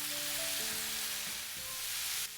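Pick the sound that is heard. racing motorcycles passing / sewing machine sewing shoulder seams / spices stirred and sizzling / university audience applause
spices stirred and sizzling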